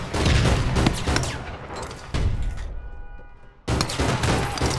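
Loud, close gunfire from the video game APB Reloaded comes in several rapid bursts separated by short lulls, with one near-silent gap before a final burst.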